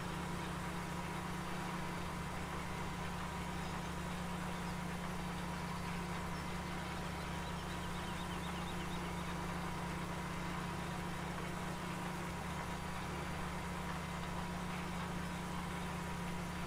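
John Deere farm equipment engine idling in Farming Simulator 17, a steady low droning hum with a constant tone, unchanging and alone throughout.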